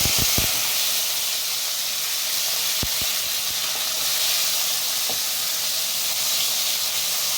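Chopped tomatoes go into hot oil seasoned with bay leaves and cumin, giving a steady, loud, close hiss of frying steam with a few sharp clicks near the start and middle, no speech.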